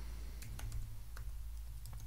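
Quick, light keystrokes on a computer keyboard patter at an irregular pace, faint and close, as a long name is typed.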